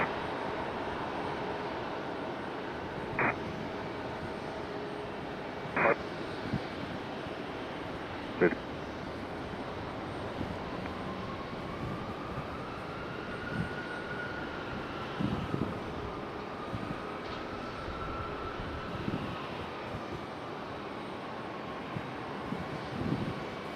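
An aircraft engine rumbles at a distance at Raleigh-Durham International Airport, its tone slowly rising and falling, under faint radio tower chatter and a few short clicks.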